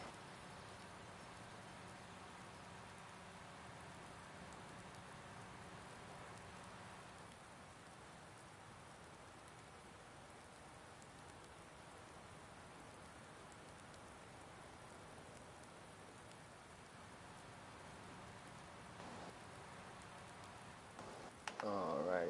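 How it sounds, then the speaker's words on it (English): Steady rain falls in a Farming Simulator 19 farm scene, a constant hiss of raindrops spattering on surfaces, continuing unbroken at moderate level with a brief knock near the end. "it does need to stop raining, man. It's been raining for a few hours."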